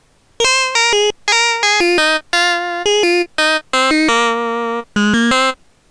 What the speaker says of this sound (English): here we have the lead instrument, again with the filter effect